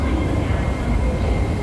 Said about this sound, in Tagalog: So, yung train dito, guys, is they called LRT.